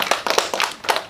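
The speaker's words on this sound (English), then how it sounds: "Let's give him a clap." Brief clapping from a school audience after a primary honours student presentation, a few close, irregular hand claps over about a second.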